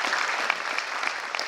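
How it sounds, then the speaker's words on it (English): Audience applause at a university graduation ceremony, a brief dense burst of many hands clapping at close range without talk. "Give yourselves a round of applause again."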